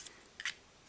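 Scissors cut paper vector shapes for a pocket letter craft: two quick, quiet snips close by, one at the start and a sharper one just before the midpoint, with near silence between.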